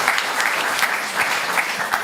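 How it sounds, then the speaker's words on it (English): Audience applause after a literature reading at a European literature night, a steady dense clapping that fills the whole stretch at an even level with no voices over it. "So warm applause for Dimitra."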